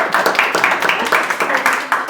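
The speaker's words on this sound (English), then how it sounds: "Can we have a round of applause for you all coming together?" A crowd at a political meeting claps steadily, a dense patter of applause that stays loud throughout.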